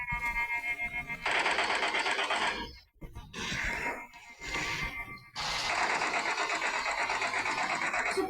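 Rapid automatic gunfire from a video game rattles in long bursts, broken by a short pause with scattered shots, loud and mechanical.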